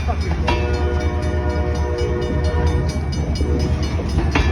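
Long freight train rolling past on the North Bridge line in Prince Albert, a loud, continuous close rumble with a sustained horn blast over heavy rail noise.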